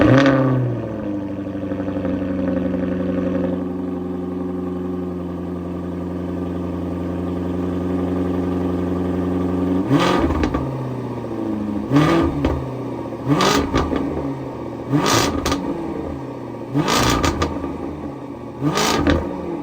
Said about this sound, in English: it's no other than the 2023 Jaguar F-Type R-Dynamic